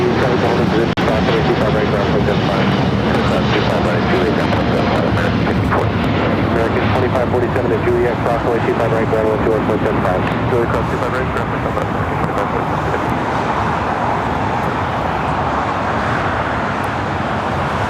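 Japan Airlines Boeing 787 Dreamliner rotating off runway 25 right at Los Angeles LAX, a loud, continuous jet engine roar with rumbling, crackling texture sustained for the whole stretch, slowly easing toward the end.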